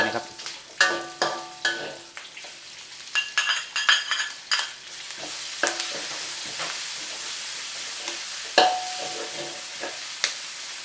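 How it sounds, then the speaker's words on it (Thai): Pork belly stir-fried in a hot pan with pounded chili and garlic for a bamboo shoot and curry paste dish, giving steady sizzling with repeated scraping and clattering stir strokes, close and fairly loud, no voices. "ผมจะรวนหมูประมาณนี้นะครับหลังจากนั้นก็ตามด้วยพริกกระเทียมที่เราตำ"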